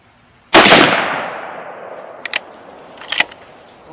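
A single loud, close .243 Win Savage rifle shot fired with Remington Core-Lokt Tipped ammunition at a 100-yard range, its long ringing decay followed by a few sharp metallic clicks of the action being worked.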